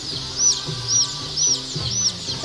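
Chickens at a poultry hatchery cluck in a steady, close chorus, with repeated short calls recurring about every half second and no talk over them.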